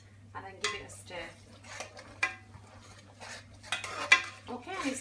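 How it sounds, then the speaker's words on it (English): A spoon stirs chicken karahi curry with methi leaves in a pot, giving scattered scraping clinks and soft knocks against the metal in an irregular rhythm, close and moderately quiet over a low steady hum. "I'm just going to add a handful of methi bhaji to this, and then give it a stir."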